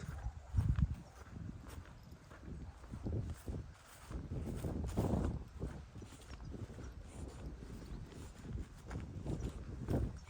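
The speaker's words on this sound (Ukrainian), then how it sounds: "І тут це є така лошадь." Hooves clop steadily on the ground as a horse walks close by, with a low rumbling background and irregular thuds.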